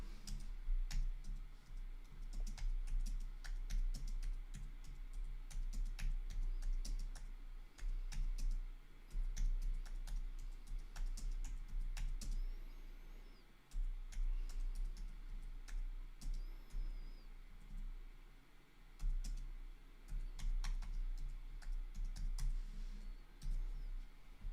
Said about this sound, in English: Sorry, I'm just typing out a few things here.